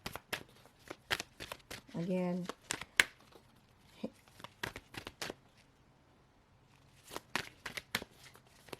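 Tarot cards shuffled by hand in short, crisp riffling bursts scattered through the clip, with a brief louder buzzing rustle near the start, heard close up beside quiet speech.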